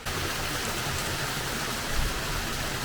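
A waterfall by Lake Iseo near Sulzano in Lombardy, in March, gives off a dense, even rushing roar that stays steady and close throughout, with no voices.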